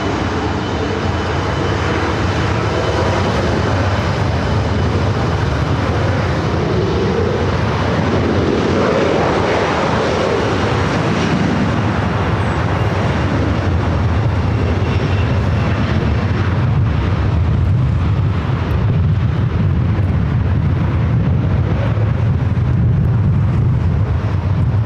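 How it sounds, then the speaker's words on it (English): A Challenger 300 business jet on landing approach at LAX, runway 24 left, a constant loud roar of engines and rushing air holding steady throughout with no speech. "This is a Challenger 300 coming in from Raleigh-Durham."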